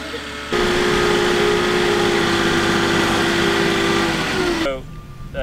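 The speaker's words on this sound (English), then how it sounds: "delivery truck is here, so we gotta go talk to him" A delivery truck's engine idles nearby in a steady, even drone for about four seconds, then cuts off abruptly.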